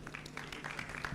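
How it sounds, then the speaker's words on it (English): Audience applause at a business forum opening ceremony, scattered clapping from a crowd, fairly faint and distant, steady over a low hum. "A big round of applause to Asha."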